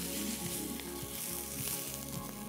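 Chopped onion, tomato and green chilli sauté in a pan, giving a steady sizzle with some stirring noise beneath a low background hum, no talk.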